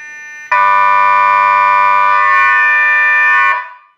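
A homemade speaker array blares a loud, steady air horn alarm tone, a harsh buzzing blast holding for about three seconds before cutting off and fading.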